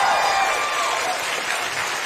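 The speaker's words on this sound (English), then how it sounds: "Please give him another big round of applause." Audience applause for the Jefferson County Democratic Party chairman at a town hall in a union hall in Beaumont, Texas: steady, dense clapping from a sizable crowd, fairly loud, with a faint whistle-like tone early on and no speech.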